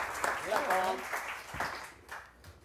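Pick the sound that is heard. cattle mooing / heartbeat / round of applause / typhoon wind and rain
round of applause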